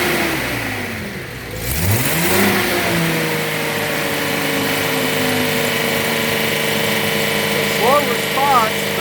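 A Datsun 240Z engine turns over, catches and settles into a steady mid-pitched idle, with a brief rise in revs near the end, heard up close and fairly loud.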